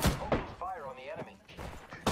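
Video game gunfire at enemies: a few sharp, loud shots spaced apart, with a voice sounding between them.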